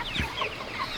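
A flock of more than a hundred chickens cluck and chatter close by, with a few short overlapping calls and a soft low thump early on.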